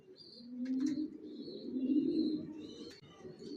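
An adult pair of racer pigeons coos in low, rolling bursts close by, two swelling calls over a faint background hum with light scratchy movements.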